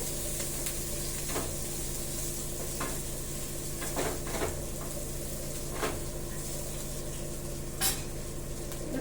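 Tempering for hotel-style idli sambar fries and sizzles in a pan with a steady, close hiss, broken by occasional clicks and scrapes of stirring. No one speaks.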